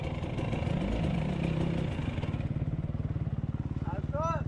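Husqvarna motorcycle engine, recently overhauled, runs with a loud, steady, chugging pulse close by, while a voice speaks over the first half.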